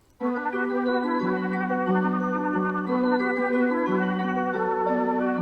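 A bright, fast trap melody loop made in FL Studio, sped up to about 180 BPM, repeats its synth notes at a steady, loud level with no voices.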